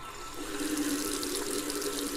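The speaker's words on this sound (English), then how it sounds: "I put the cup under the faucet and turned the handle" A kitchen faucet runs steadily into a sink, a close, continuous gush of cold water that swells slightly after the tap opens.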